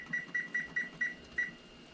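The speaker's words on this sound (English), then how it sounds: "So we'll set the timer again." A kitchen timer set while cooking homemade honey taffy gives six short, sharp electronic beeps in quick, slightly uneven succession, clear over a faint background hum.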